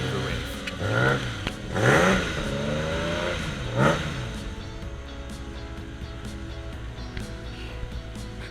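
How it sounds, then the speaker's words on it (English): A car engine fires up and revs a few times in short rising bursts, then settles to a steady idle, close by with no talk. "And at last we can start it. Give it a bit of a rev."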